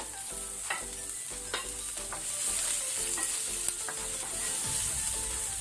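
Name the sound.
onions frying in a pan on low flame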